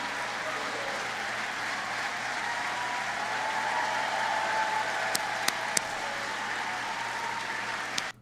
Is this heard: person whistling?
no